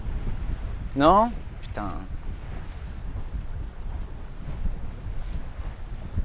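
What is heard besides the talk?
gust of wind on a 9.5 m sailboat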